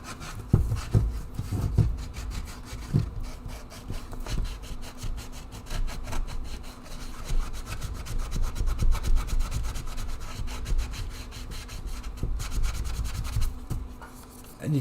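Repeated rubbing strokes of hand sanding on a 3D-printed She-Hulk bust, a close, steady rasping scrub with uneven rhythm and no talking.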